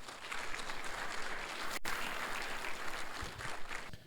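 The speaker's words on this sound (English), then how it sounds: "I want to have everybody give Gabe another round of applause" Steady applause from an audience at a storm chaser summit fills the clip, dense and continuous clapping with a brief dropout midway, no voices standing out.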